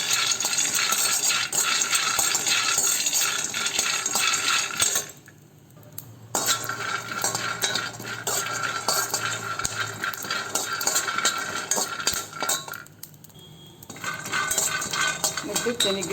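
Peanuts roasting on low heat rattle and scrape as they are stirred in a metal pan, giving a busy, close clatter of nuts against metal. It pauses briefly twice, and a voice speaks faintly once during the first pause.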